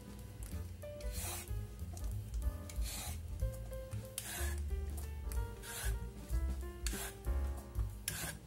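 A vegetable peeler scrapes strips of skin from a washed squash in repeated rasping strokes, steady and close, with soft music playing underneath.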